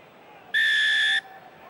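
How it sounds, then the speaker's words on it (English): A rugby referee's whistle gives one sharp, shrill blast lasting under a second to restart play for the second half of Leinster versus Ospreys in 2012. It rises clearly above a low, steady stadium crowd murmur. "Roman Putt blows the whistle"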